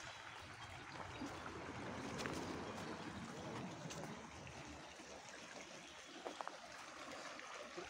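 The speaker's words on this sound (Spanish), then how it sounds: "Es un río muy caudaloso." Fast-flowing river in Tamazulapan del Progreso, Oaxaca, a steady broadband rush of water with faint trickling, continuous and moderately distant, with no voices.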